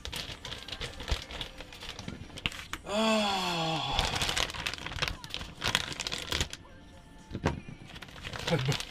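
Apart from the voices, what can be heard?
opening a plastic parts bag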